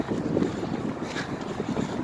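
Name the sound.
strong wind blowing under a bridge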